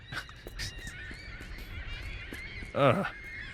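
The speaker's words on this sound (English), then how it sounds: "let's go see what the birds are angry about" Angry birds honk in a video game, a loud goose-like honking burst near the end over a busy background of scattered game noises and faint voice.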